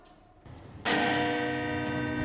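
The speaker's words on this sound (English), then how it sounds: "Ring the bell." A bell rung at a gate in a staged school production of The Wizard of Oz, a single loud metallic strike that rings out and sustains with a long shimmering decay, heard alone after a brief quiet moment.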